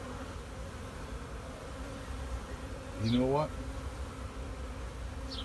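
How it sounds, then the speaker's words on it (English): Honeybees buzzing around a newly installed hive during a spring bee yard inspection, a steady low hum over the whole stretch, with a brief close buzz rising in the middle as one bee flies by; someone speaks briefly. "They're being bees in their new home."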